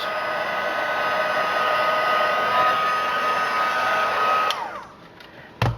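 A heat embossing tool blows hot air in a steady, loud whooshing hum for several seconds, then cuts off, followed by a short clunk.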